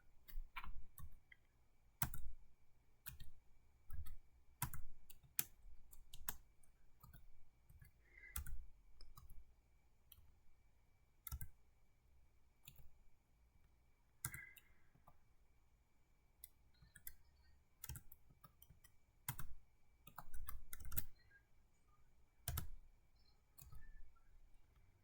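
Keys clack on a computer keyboard while a DHCP server config is edited on Debian 12 in VMware, sparse, quiet, irregular clicks in short bursts with gaps between them.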